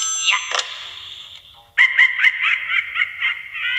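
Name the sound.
phone ringing in Luigi's Mansion 3 video game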